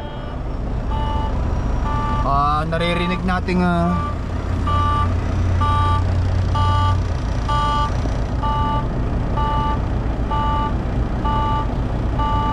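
A truck's low air pressure warning beeps in a steady, evenly spaced pattern over the running engine while it builds air after starting, with someone talking over part of it.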